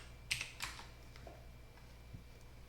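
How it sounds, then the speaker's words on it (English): Close, quiet clatter of keys on a Windows computer keyboard, a short burst of several taps early on, then a couple of isolated presses. "I'm going to type in Skype"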